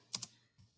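Two soft, rapid keyboard taps followed by a fainter third, someone entering numbers for a volume calculation on a computer keyboard, quiet and close.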